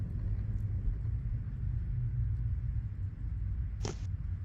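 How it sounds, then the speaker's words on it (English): A continuous low rumble of thunder rolls across a video game map, steady and fairly loud, with a brief sharp higher burst near the end and no talking. "I couldn't handle the thunder noise anymore."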